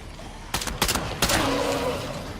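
Gunfire in the video game State of Decay 2 comes as a few sharp shots close together, then a fading rumble.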